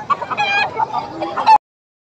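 Chickens cluck in a short burst at a poultry sale, with several close, fairly loud calls packed into about a second and a half, ending abruptly.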